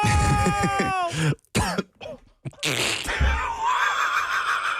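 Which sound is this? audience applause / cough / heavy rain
cough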